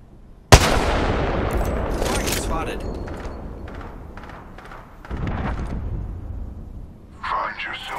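Gunfire in the Apex Legends video game: a sharp loud shot opens a sustained, decaying barrage of bursts, then a second wave of firing follows, with character voice lines over the action.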